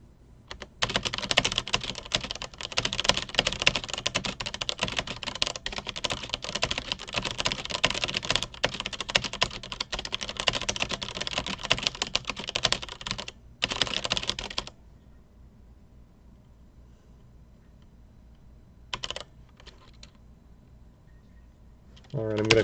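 Rapid, continuous keyboard typing on a championship typing test, dense and close for about fourteen seconds, then stopping into quiet with a couple of short bursts of keystrokes near the end.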